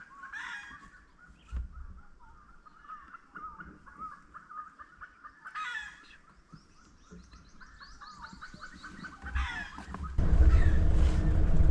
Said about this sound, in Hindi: मुर्गा बोल रहा है